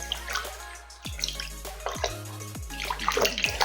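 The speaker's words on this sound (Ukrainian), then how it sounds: "Вода долго уходит" Water drains from a small container, close-up trickling, gurgling and dripping with repeated falling-drop plinks against a steady watery wash.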